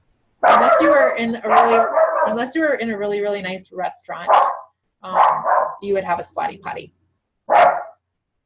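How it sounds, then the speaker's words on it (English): A dog barks intermittently in the background while a person talks over it in the foreground. "Sorry about my dog barking in the background."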